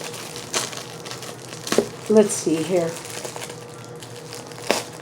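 Plastic wrapping on a BowDabra package crinkles and crackles in short bursts as it is handled and opened, with a person speaking briefly over it.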